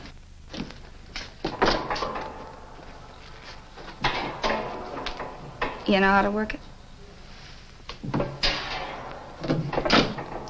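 An interior door creaks and thumps as it is opened to pull out a folding bed in a stuffy old apartment, with a few knocks and a rattling slide, mixed with people talking.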